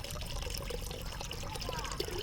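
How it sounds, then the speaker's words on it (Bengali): Onion-peel liquid fertilizer pours from a bottle into water with a soft continuous trickle and splash, close and faint, over a couple of seconds. "এখন এই লিকুইড ফার্টিলাইজারটি এর সাথে মিশিয়ে নেব।"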